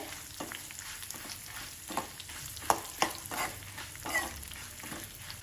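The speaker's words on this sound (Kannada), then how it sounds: "ಈಗ ಇದಕ್ಕೆ ಕರಿಬೇವಿನ ಎಲೆಗಳನ್ನು ಹಾಕ್ಕೊಳ್ತಾ ಇದ್ದೇನೆ ಇದನ್ನು ಈಗ ಚೆನ್ನಾಗಿ ಫ್ರೈ ಮಾಡ್ಕೊಳ್ಬೇಕು" Curry leaves and chillies frying in a pan for quick sambar, a close steady sizzle with scraping stirs and a few sharp crackles and pops, no voices.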